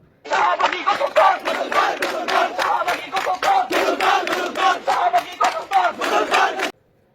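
A crowd chants a slogan in loud, rhythmic unison bursts, about two syllable groups per second, sustained steadily for roughly six seconds before stopping abruptly.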